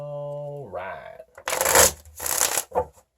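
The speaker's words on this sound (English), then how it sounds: "Give a few more shuffles here." Tarot cards being shuffled by hand, heard as brisk papery riffling in two close bursts with a short flick after, following a brief spoken word at the start.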